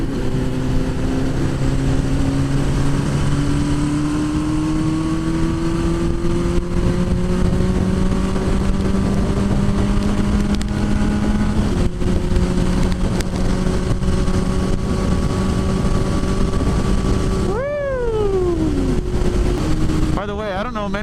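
A motorcycle engine runs steadily while riding on the road, its droning tone rising gradually through the gears before a sharp drop and a quick rev near the end. Wind noise stays loud throughout.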